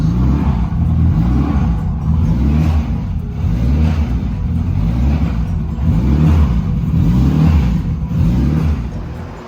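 A methanol-fuelled race car engine runs rough and surges in a steady, loud, close rumble that rises and falls in repeated waves, unable to settle into a smooth idle, with no voices.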